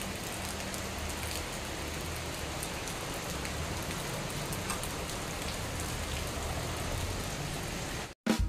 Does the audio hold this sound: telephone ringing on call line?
no